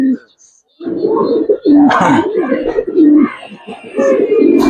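Giribaz pigeons cooing in short, throaty low phrases that repeat close to the microphone, with a few higher chirps mixed in and a voice talking over parts of it.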